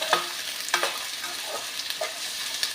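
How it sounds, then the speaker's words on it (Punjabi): Long-sliced onions frying in a pan while stirred continuously, a steady bright sizzle with repeated scraping stirs every half second or so. "ਲਗਾਤਾਰ ਹਲਾਉਂਦੇ ਹੋਏ ਜੀ ਪਿਆਜ਼ਾਂ ਨੂੰ ਪਕਾਵਾਂਗੇ"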